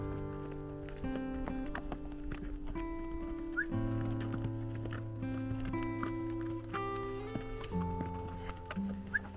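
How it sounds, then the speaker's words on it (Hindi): Horses walk along a trail on a guided ride in Solang Valley near Manali, Himachal Pradesh, with soft hoofbeats beneath steady tonal background sounds and no talk. "अब इस बार घुड़सवारी का आनंद ले लेते हैं।"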